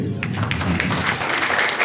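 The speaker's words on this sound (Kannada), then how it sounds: "ಅವ್ರಿಗೊಂದು ಚಪ್ಪಾಳೆ ಹೊಡಿರಿ" An audience at a children's drama performance applauds the drama team, a dense, steady wash of clapping that continues through the brief moment with little variation.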